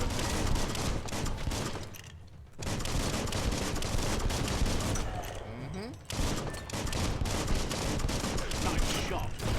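Dense bursts of gunfire from the video game Biomutant, rapid and loud, with short pauses between volleys, mixed with game sound effects and a voice talking over the action.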